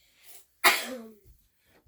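A single sharp sneeze, close and fairly loud, with a faint breath before it and quiet afterward.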